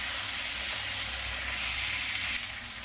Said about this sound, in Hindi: इसे लगभग 2-3 मिनट भूनूंगी